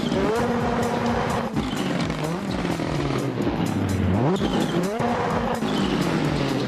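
A Ford Fiesta Rally RS 2022 rally car in the Assetto Corsa racing game, its engine revving up and down through gear changes with brief tire squeal, loud and continuous with no talk.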